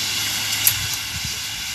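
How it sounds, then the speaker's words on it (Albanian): Firefighters spray water from a distance onto a burning forest on Maja e Runës mountain in Kukës, a steady, broad hissing rush that stays even and moderately loud for under two seconds. "po përpiqen nga distanca të shuajnë flakët, duke hedhur ujë."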